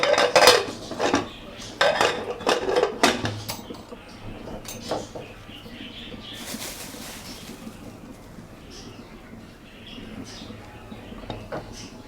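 A fork clinks and prods against a pot of simmering beef curry, with a burst of sharp metallic taps early, then sparser knocks over a quieter background.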